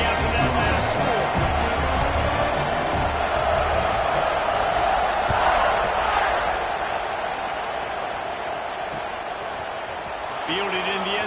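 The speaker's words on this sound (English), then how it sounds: "this crowd is buzzing after that last score." A packed stadium crowd roars and buzzes continuously in the college football video game College Football 26, a dense, loud wash of cheering during a Syracuse versus Notre Dame matchup.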